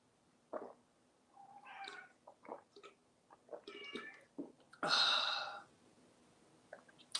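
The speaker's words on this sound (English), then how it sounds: "The cat doesn't sound excited." A cat meows several times in short, separate calls with pauses between, one louder drawn-out cry near the middle, fairly close but quiet overall, with faint chewing-like sounds and no talk.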